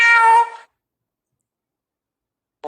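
A domestic cat gives one clear, close meow that stops after about half a second. Silence follows, and then the start of another call cuts in at the very end.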